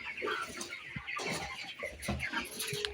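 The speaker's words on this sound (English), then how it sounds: "Now let me tell you about this chicken. This is a broiler for business." Broiler chickens kept for business in a Kenyan village cluck and chatter continuously, fairly close, with several overlapping birds and background farmyard noise.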